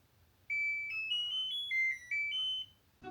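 LG PuriCare natural evaporative humidifier chiming when its water runs out, a short bright electronic melody of about eight clean notes, clear and alone in a quiet room.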